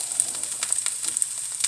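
Vegetables sizzle steadily as they saute in a pan, a continuous close hiss with soft crackles and no voices.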